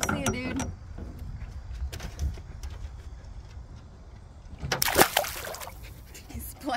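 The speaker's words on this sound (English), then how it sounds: "He splashed me right in the face." A single sharp water splash bursts out midway through a noisy outdoor scene, with scattered knocks and bumps around it.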